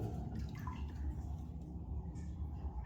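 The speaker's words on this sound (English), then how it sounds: "That's a lot of water. That's a serious amount of water." Water flows and echoes inside an old abandoned lead mine as a steady, low rushing wash that fills the space at moderate, even volume.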